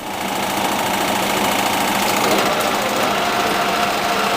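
A lathe parts off a pipe with a cutting tool while emulsion coolant is fed onto the cutter. A loud, continuous, buzzing metal-cutting drone holds steady, with machine rumble underneath.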